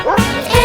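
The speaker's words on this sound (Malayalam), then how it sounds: "ഒരു നായ ഉണ്ടായിരുന്നു കർഷകന്, പേര് അതിന്റെ ബിങ്കോ." A dog's bow-wow bark in a children's farm-dog nursery song, two or three short yips over steady sung music, close and fairly loud.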